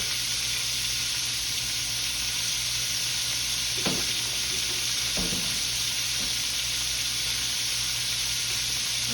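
Alligator tails frying in hot oil, an old-school fried dish, give a steady loud sizzle and hiss throughout, with a few brief clatters as the pieces are moved around.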